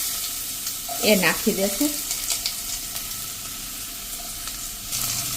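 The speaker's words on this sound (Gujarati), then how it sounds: "અને આને આપણે આ રીતે તેલમાં સોતે કરી લેશું, એટલે કે કૂક કરી લેશું" Small potato and carrot pieces sautéing in oil with mustard seeds and a pinch of asafoetida for vegetable poha, a steady sizzle with a burst of clattering as the pieces go in, while a voice speaks briefly.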